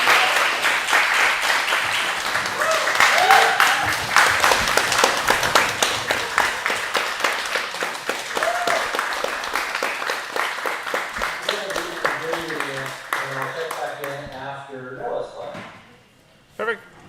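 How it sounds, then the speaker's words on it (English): Applause from an audience at a live theatre show, a dense, steady wash of many hands clapping that thins toward the end into scattered individual claps before dying away. "give a fantastic another round of applause to these great young writers"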